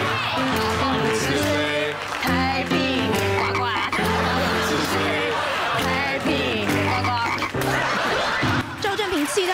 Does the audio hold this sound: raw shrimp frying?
no